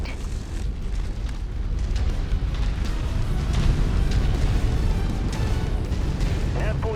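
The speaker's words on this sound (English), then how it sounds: "Don't stand in the explosion." A sustained, rumbling explosion roar fills a MechWarrior 5 battle in the Rise of Rasalhague expansion, a dense, continuous wash of low blast noise lasting several seconds with no clear breaks.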